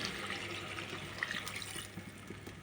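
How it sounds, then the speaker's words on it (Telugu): Water runs and splashes steadily as a glass of water is poured into a pan of mutton liver curry, close and fairly quiet, with no talking. "ఇప్పుడు దీంట్లోకి 1 గ్లాస్ నీళ్ళు పోసుకుందాము."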